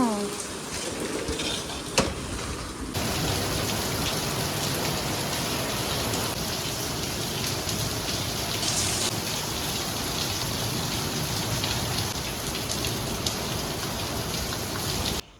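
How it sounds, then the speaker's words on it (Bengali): Heavy rain pours down steadily during a storm with strong wind, a dense, continuous roar heard close by from indoors that holds for the whole stretch after a brief quieter start. "দেখ বাইরে কত সুন্দর বৃষ্টি হচ্ছে"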